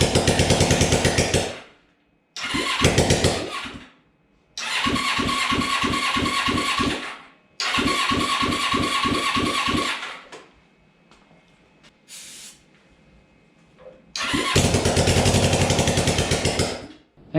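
Rebuilt Suzuki motorcycle engine with no exhaust fitted, cranking and firing in harsh, rapid rattling bursts of a few seconds each, separated by gaps of quiet, close and loud.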